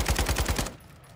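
A rapid burst of automatic gunshots in the shooter Modern Warfare 2, loud and evenly spaced, cutting off abruptly and leaving a short fading tail.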